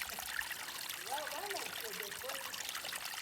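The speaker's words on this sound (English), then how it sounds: "Little water source." Water trickles from a small spring beside a mountain trail between Bly Gap and Deep Gap, North Carolina, a faint close gurgle with soft bubbling pops against a quiet hiss.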